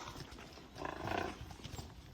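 Horse hooves clip-clop at a steady walking rhythm while hacking out on a rural route toward a quarry, fairly close and moderately loud, swelling briefly before easing off.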